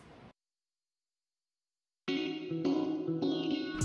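A guitar-like synth plugin called Arcade, heard dry without effects in an Afrobeat production, plays a short rhythmic phrase of bright plucked notes after a brief burst and near silence, close and fairly loud.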